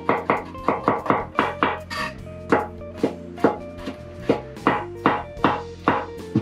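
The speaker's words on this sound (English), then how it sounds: "I'm gonna slice my mushroom" Knife slicing king oyster mushrooms on a cutting board, a steady run of about fifteen crisp close chopping thuds at an even, quick rhythm.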